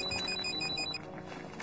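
A telephone ringing indoors, a quick electronic trill repeating in short even bursts for about a second before stopping, fairly clear and close.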